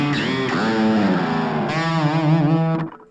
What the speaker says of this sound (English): Almost a reverb kind of effect.